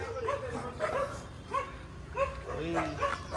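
Dog barking repeatedly in short yips and bow-wows at fairly close range, coming in several bursts over a steady low rumble while a voice talks alongside.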